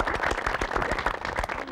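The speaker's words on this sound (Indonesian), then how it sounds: "Kita beri tepuk tangan yang meriah sekali lagi." Studio audience on a TV game show claps for about two seconds, with dense, steady applause filling the room at close range.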